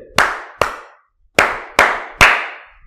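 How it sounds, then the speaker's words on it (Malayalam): A teacher claps hands for young children in an online madrasa class, five sharp, close, distinct claps with short ringing decays, the third after a brief pause. "മക്കൾക്ക് ഒരു ക്ലാപ്പ് തരട്ടെ സാറ്"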